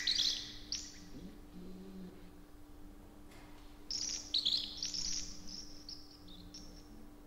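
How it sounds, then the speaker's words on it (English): A computer voice reading The Exorcist script, sped up so fast it chirps like twittering birds: quick high bursts in two clusters, a steady low hum beneath, no ordinary talk. "it's a script of The Exorcist read through really, really quick by a computer voice, and then speeded up really, really fast"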